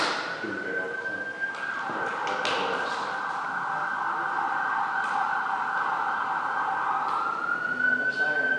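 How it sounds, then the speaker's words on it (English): An emergency vehicle siren wails steadily at a moderate distance for several seconds, with a long held tone that rises slightly near the end. "Another siren. The sirens are scary."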